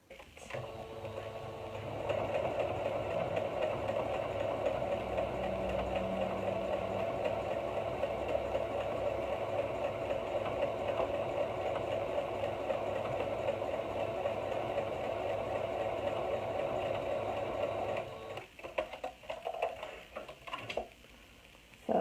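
A sewing machine fitted with a twin needle stitches knit binding, running as a steady, even whir for about sixteen seconds before stopping, with no talking.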